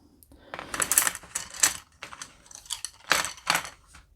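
Several bursts of light clattering as Berol Eagle recycled pencils drop and scatter onto a hard surface, rattling in quick clusters with short pauses between.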